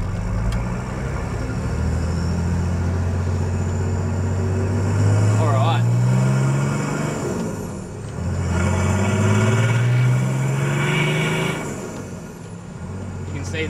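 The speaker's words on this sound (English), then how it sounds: "see how loud it is in the cab at the moment with that little side dump exhaust with no muffler or anything and no sound deadening" Inside the cab of a vehicle with a short side-dump exhaust, no muffler and no sound deadening, a loud droning engine rises and falls through two accelerations, with a brief hissing burst partway through.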